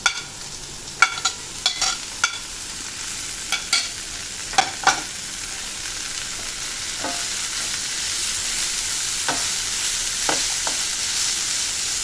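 Carrots, capsicum and corn stir-frying in a pan, a continuous close sizzle punctuated by a dozen sharp clacks of a spatula tossing the vegetables, more frequent early then sparse, with no talk.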